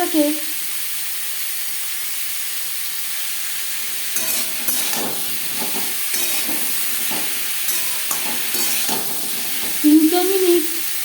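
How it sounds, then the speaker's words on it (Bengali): Papaya curry with turmeric and salt being stirred in a pan on a gas stove, a steady sizzle under intermittent scraping strokes of the spoon, moderately close, with no talking. "নাড়াচাড়া করে নেব তিন চার মিনিট"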